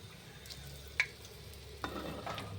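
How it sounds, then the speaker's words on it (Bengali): Chilli pakoras, battered green chillies, frying slowly in hot oil give a faint, soft sizzle punctuated by a couple of sharp little pops. "আস্তে আস্তে ভেজে নিতে হবে।"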